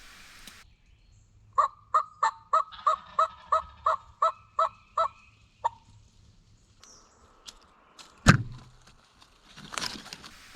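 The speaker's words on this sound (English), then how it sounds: "he spits and drums and gobbles and goes down the road there" A wild turkey gobbler in the woods lets out a rapid string of about a dozen evenly spaced, loud calls, then falls quiet before a sharp crack and a few scattered sounds.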